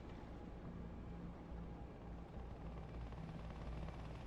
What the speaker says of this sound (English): Can hear the sound of the helicopter.